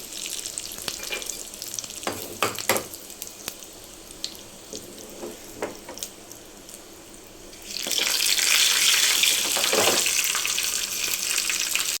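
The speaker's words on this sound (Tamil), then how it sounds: "காஞ்சி மிளகு கருவேப்பிலை போட்டுக்கலாம் இதையும் நல்லா தாளிச்சிக்கலாம்" Black pepper and curry leaves hit hot oil for a Kerala-style greens kuzhambu, with soft kitchen clatter and splashes first, then a bright, steady sizzle that swells up close and stays loud.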